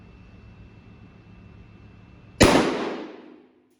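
A single loud shotgun blast of birdshot fired from 20 metres at Oakley polycarbonate tactical safety glasses, a sharp crack after quiet background with a rumbling outdoor echo that decays over about a second.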